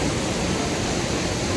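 Ryujin Waterfalls in Nakatsugawa, Gifu, Japan, pours as a steady, dense broadband roar of falling water, constant and close, with no pauses.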